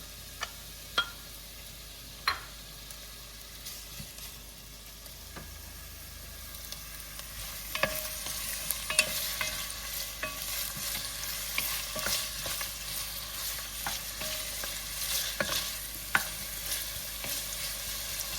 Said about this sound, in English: Now, I don't want to get this onion brown. I just want to sweat it for a minute.